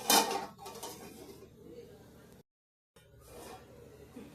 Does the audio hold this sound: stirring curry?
yes